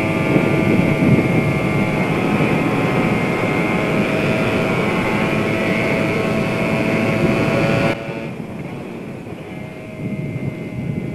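Motorcycle engine running steadily and loud under wind noise while riding, with a strong, even drone that drops off sharply near the end as the throttle closes.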